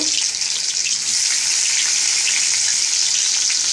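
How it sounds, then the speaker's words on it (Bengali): Chopped garlic and ginger sizzle steadily in oil in a pan, a loud, even hiss that holds without a break and has no talk over it. "একটু ভাজা ভাজা হোক তারপর পেঁয়াজ পেঁয়াজটা পরে দিচ্ছি"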